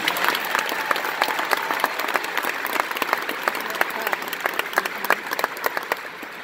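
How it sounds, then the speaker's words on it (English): An audience at a Mary Kay conference breaks into sustained applause, a full crowd clapping steadily and brightly for several seconds. "Can we give them a round of applause?"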